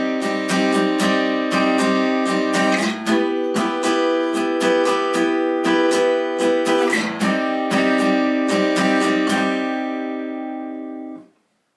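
Barre chords strummed on guitar with the thumb muting the bass strings, a steady series of bright strums ringing clearly on their own, fading out at the end.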